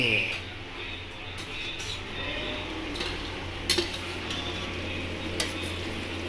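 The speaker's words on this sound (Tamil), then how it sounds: "இப்போ தக்காளி சார அப்படி ஊற்றணும் ஊற்றிட்டு நல்லா ஒரு கலக்கு கலக்கு" Tomato juice poured into masala and stirred in a pan while making chicken kuzhambu, with soft scraping and a few sharp metallic clinks of a spoon against the pan under a person talking.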